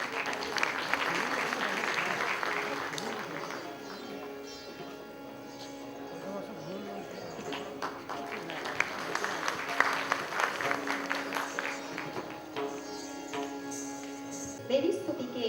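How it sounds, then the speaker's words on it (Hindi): Audience clapping to welcome dancers at an Indian classical music and dance evening, bursts of applause that swell, ease off and rise again while voices and instrument tones carry through. "तालियों से हम स्वागत करेंगे इन सारे कलाकारों का"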